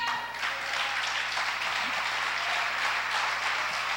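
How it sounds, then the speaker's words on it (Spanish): A church congregation applauds in a steady, dense wash of clapping that fills the space for the full stretch, with a low sustained hum underneath. "denle un aplauso al Señor"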